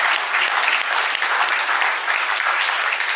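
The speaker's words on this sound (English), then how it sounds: "Let's give them a round of applause" Steady, dense applause from an audience at a public talk event, sustained and fairly close throughout with no voices over it.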